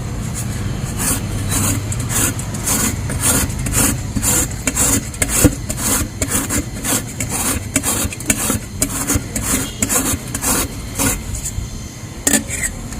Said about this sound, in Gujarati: તો હવે આને મોટું છીણી આવે છે એનાથી છીણી લેવાનું છે.